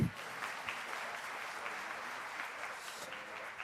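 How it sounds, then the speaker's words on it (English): A conference audience at a climate-neutral cities event gives soft, distant applause that holds at an even level, with a slight bump at the start. "You can clap for that because it's a wonderful occurrence."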